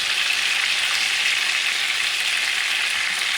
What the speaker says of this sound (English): I'm going to brown it for a few minutes, okay? Both sides.